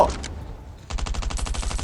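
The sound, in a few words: gunfire in the video game Last Island of Survival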